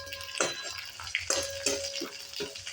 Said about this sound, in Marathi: आता आपण हिरवी मिरची तळायला टाकूयात